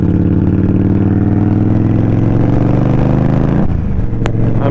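A 2023 Indian Scout Rogue motorcycle engine runs loud and close, holding a steady, throaty idle-to-rev drone before a brief blip near the end.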